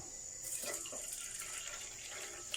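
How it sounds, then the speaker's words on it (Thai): Tap water runs steadily to rinse dried shiitake mushrooms, a faint, soft continuous splashing with slight surges, heard alone at low volume. "เอา เห็ดหอมแห้ง ไปล้างให้สะอาดแล้วก็แช่น้ำทานน้ำดื่ม"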